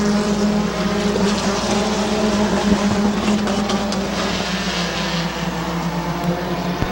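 Race cars roar around the Midvale Speedway oval, a loud continuous engine drone with overlapping cars passing, steady and dense throughout with no distinct voices.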